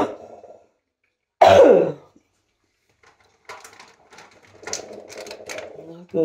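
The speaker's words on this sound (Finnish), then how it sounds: "mulla on vieläkin tätä yskää." A person with a lingering cough gives one sharp, loud cough close by, followed by quiet and then soft rustling and faint voice sounds.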